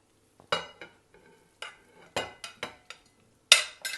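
Chicken meat and onions stirred in a hot pan, giving a series of sharp scraping and clattering strokes with brief sizzles between them, spaced irregularly and heard close up with no talking.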